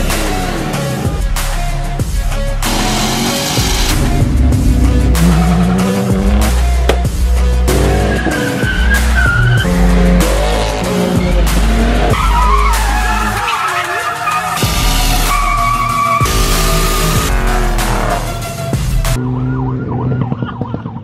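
A Corvette launches at a crowded car meet, its tires squealing loudly over a roaring engine in a long, continuous screech with rising and falling pitch that cuts off abruptly near the end.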